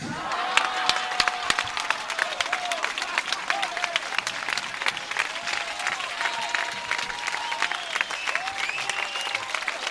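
An outdoor festival crowd at the Sitges Festa Major applauds steadily after a recited verse, dense clapping sustained throughout with no break.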